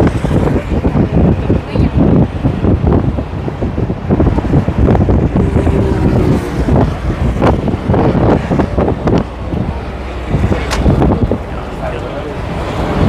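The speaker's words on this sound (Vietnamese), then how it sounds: "Tối là gió mạnh mát rượi luôn mọi người." Strong night wind buffets the microphone continuously on the open top deck of a double-decker sightseeing bus in Saigon, a loud rumbling gusty roar that masks almost everything else.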